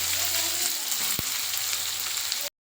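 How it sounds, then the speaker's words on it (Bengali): Whole garam masala spices and chopped onion fry in hot oil, giving a steady, close, fairly loud sizzle with one brief sharp tap near the middle, no voices. "এবার ওই তেলে দিয়ে দেবো গোটা গরম মশলা ফোড়ন, তারপরে দিয়ে দেবো কুচনো পেঁয়াজ"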